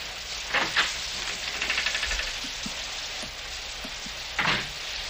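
Steady rain hisses across the whole clip, with a few louder drops and splashes standing out now and then against the constant patter.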